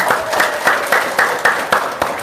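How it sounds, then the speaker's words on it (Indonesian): Audience applause at a Friday religious gathering for the Prophet's birthday, rhythmic group clapping in a steady beat of about four claps per second, fairly close. "Tepuk tangan dulu dong."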